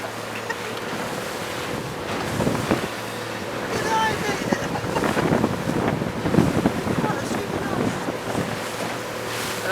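A motorboat eases along at about 7 or 8 knots through a big swell, its low engine rumble steady beneath wind buffeting the microphone and water washing against the hull, with a voice speaking faintly at times.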